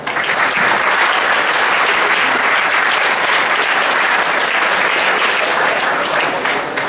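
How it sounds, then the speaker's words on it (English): Loud, dense applause from the audience at an annual general meeting awards recognition, steady continuous clapping for about seven seconds with no break. "Let us give them a round of applause."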